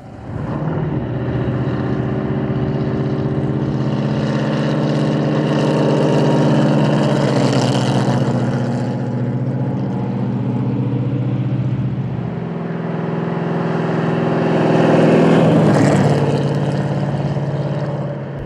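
A Dodge Charger race car's big engine rumbles steadily and loudly, swelling into a deeper roar twice as it revs, with no voices over it.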